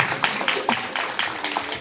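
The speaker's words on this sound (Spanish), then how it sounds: "le damos fuertes palmas" A church congregation claps for a pastor and his wife, a steady patter of hand claps from a small crowd that carries on for the whole stretch.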